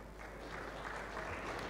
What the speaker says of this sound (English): So a big round of applause to you guys here.